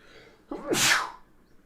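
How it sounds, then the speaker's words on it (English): A single loud, forceful sneeze bursts out after a quiet moment, with a sharp breathy blast trailing off. "Damn, that was a brutal sneeze."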